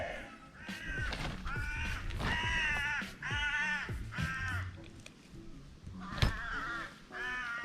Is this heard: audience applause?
no